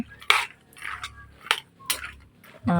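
Peanuts stirred in hot bubbling oil in a pan, giving a few separate metallic scrapes and clinks of a utensil against the pan, close and moderately loud, over a low sizzle with no talking.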